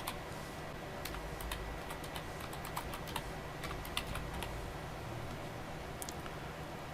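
Rapid clicking of computer keys as a website address is typed on a keyboard, steady and close, with quick bursts of keystrokes and brief pauses over faint room hum.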